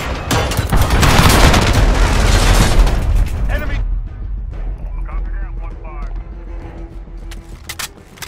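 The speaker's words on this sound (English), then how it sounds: "Enemy cruise missile. Take cover." A cruise missile explodes in the shooter game Call of Duty: Modern Warfare, a loud booming blast with crackling debris that rolls for several seconds, then decays into scattered gunfire and game voices.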